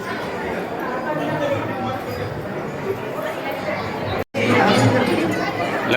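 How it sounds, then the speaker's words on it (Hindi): Dense, steady chatter from a huge crowd at the Buddhagiri Madhi fair in Fatehpur Shekhawati, many voices overlapping nearby with a short gap in the middle. "लगातार भीड़ बढ़ती जा रही है।"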